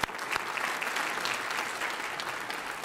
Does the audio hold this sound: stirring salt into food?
no